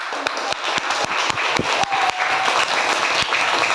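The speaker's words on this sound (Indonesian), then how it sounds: "Tepuk tangan." A classroom audience applauds steadily, many hands clapping in a dense, continuous patter at close range for a few seconds.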